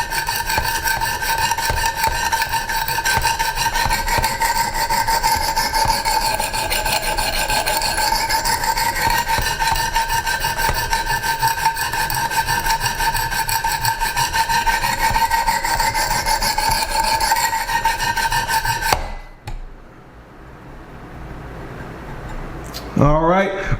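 A Strider SMF knife is drawn across new Wicked Edge sharpening stones with light pressure, giving a continuous, even rasping scrape that runs steadily before stopping abruptly, followed by a few quiet handling sounds.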